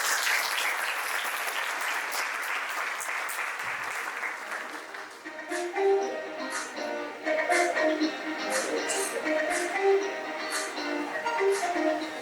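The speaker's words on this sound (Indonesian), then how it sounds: "Boleh kita berikan tepuk tangan yang meriah untuk moderator kita" Audience applause for a moderator at an indoor corporate talk event, a full wash of clapping that thins out into scattered, distinct claps toward the end.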